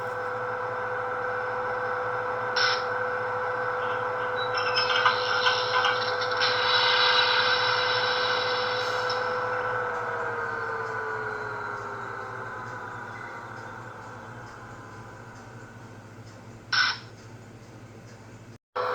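A Broadway Limited model Pennsylvania Railroad GG1 electric locomotive with DCC sound starts up with a steady motor hum and whine, a brief clatter, then the tone drops and settles, with occasional clicks.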